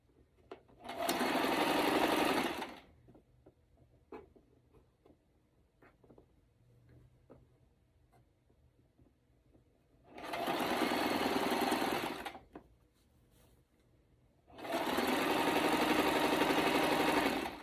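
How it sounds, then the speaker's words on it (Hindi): Sewing machine stitching a shalwar in a home setting, running in three loud bursts of steady whirring with quiet pauses and faint handling noises between them. "ये शलवार की स्टिचिंग कर रही हूँ, सिलाई"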